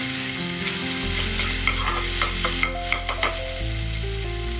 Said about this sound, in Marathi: बारीक केलेली लसूण, आलं लसूणची पेस्ट छान अशी मस्त तेलामध्ये आपण भाजून घेणार आहोत